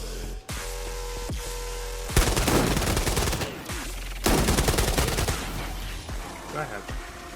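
Assault rifle fire in the video game Arena Breakout, with single cracks followed by two long sustained automatic bursts, loud and close, and a few sparse shots after them.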